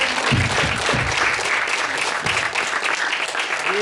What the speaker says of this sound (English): A big hand.